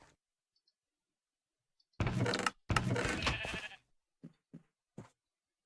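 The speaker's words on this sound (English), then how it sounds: "Sheep, get out of here." Minecraft sheep bleating in Sky Factory: two loud, close bleats back to back, followed by a few short, quieter clicks and blips.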